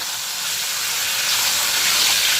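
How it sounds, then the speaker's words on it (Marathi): A continuous, close sizzle of potato chips frying in hot oil, a bright crackling hiss that holds steady throughout. "कुरकुरीत होईपर्यंत ते छान तळले जातात"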